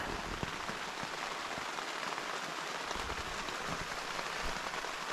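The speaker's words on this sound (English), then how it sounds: "The rain started up again." Steady rain falls continuously on a hard surface at night, a dense, even hiss of drops with occasional louder patters, with no voices.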